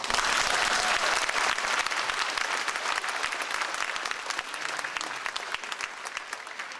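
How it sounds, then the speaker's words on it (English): An audience at a high school commencement ceremony applauds, a dense sustained wash of clapping that stays loud and gradually eases slightly over several seconds, with no speech over it. "You can applaud now."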